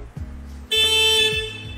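A single short Honda Amaze car horn honk sounds close by over a low engine idle, lasting about half a second.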